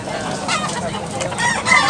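Short clucking and faint crowing from a gamecock at a Cebu rooster market, sounding over steady crowd noise with no clear speech.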